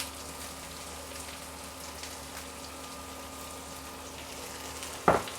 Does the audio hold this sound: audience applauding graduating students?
no